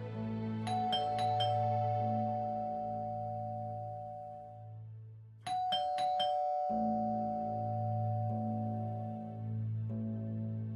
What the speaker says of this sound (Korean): 누군가 초인종을 마구 누르기 시작했고